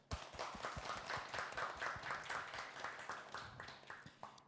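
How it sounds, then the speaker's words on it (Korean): An audience at a Buddhist temple gathering applauding together, a quiet, steady patter of many hands clapping for a few seconds. "박수로 함께 시작해 볼까요?"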